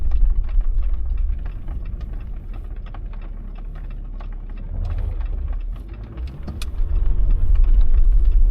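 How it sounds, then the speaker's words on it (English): A car approaches on an overland trip through Utah, its engine a steady low rumble that swells louder toward the end, with no talking. "The car coming in, guys."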